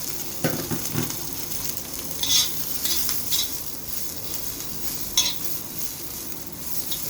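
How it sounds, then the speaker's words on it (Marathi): Garlic and onion masala being roasted over a low flame in a pan for Malvani chicken curry, a soft continuous sizzle broken by repeated scraping and stirring strokes and occasional utensil clinks, close and moderately loud. "वाटप आहे ते भाजून घेणार आहोत."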